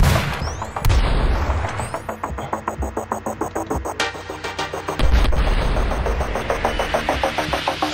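Rapid gunshots in the video game Superhot, loud close booms, first a few scattered shots, then a fast, steady volley of evenly spaced bangs, with no voices over them.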